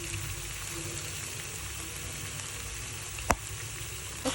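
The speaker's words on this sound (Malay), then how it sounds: "goreng sampai masak" Onions frying in a pan while cooking tubu (rattan shoots) with patin fish, a steady soft sizzle and crackle throughout, with a brief clatter near the end.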